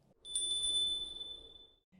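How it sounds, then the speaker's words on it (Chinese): A clear, bright bell ring like a wind chime or small bell, a single struck tone with sustained high shimmer that fades over about a second and a half, heard alone and fairly soft. "有清脆的铃铃声。"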